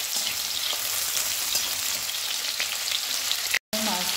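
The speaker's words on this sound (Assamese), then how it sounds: "এই আলুকণ প্ৰথমতে ফ্ৰাই কৰি লওঁ" Potato pieces frying in hot oil, a dense continuous crackling sizzle close to the pan, cut by a brief silent gap near the end and no talking.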